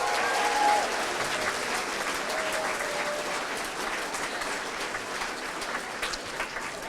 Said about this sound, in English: Mrs. Core, let's give her a nice round of applause